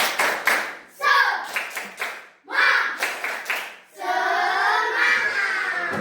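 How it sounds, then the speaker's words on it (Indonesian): Classroom students perform a rhythmic group clap, bursts of quick claps in patterned groups separated by short pauses, ending in a longer chanted passage of children's voices. "Tepuk semangat."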